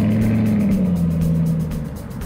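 A 300-plus-horsepower Ford Mustang drives past with a loud, close engine growl that holds steady and then eases slightly as it pulls away, with no talking.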